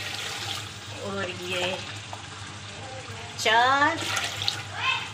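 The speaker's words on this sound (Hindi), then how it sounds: "अब मैं इसमें पानी डालने लगी हूँ।" Glasses of water poured one after another into a cooking pot of keema and peas for pulao, a splashing rush of water under a voice counting along in Hindi.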